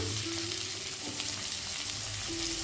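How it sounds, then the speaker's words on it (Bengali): Potatoes frying in oil seasoned with radhuni seeds and salt, for a traditional Bengali ridge gourd and rohu fish curry, give a steady, close, continuous sizzle with no voices over it. "এবার আলুটাকে আমি একটু ভেজে নেব"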